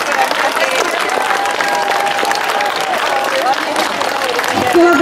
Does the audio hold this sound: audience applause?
yes